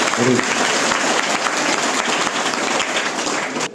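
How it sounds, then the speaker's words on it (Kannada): A group of schoolchildren applauds loudly in a steady, dense wash of clapping that continues throughout, with a brief voice audible near the start. "ಚಪ್ಪಾಳೆ ಹೊಡಿತಾರೆ."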